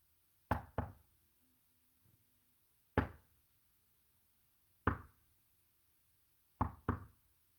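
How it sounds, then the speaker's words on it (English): Sharp wooden knocks ring out in a ritual, alone in near silence: a double knock, a single knock, another single, then a final double, each crisp and close. "Saul responds with a knock."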